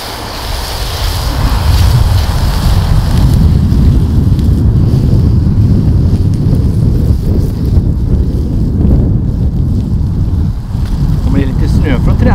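Wind gusts outdoors in snowy winter at minus nine degrees, a loud rumbling roar buffeting the microphone steadily throughout, easing only briefly near the end.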